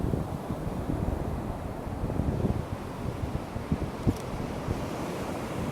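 Ocean waves wash onto a beach in spring, a continuous surf rumble with wind noise buffeting the microphone and small irregular splashes, no voices.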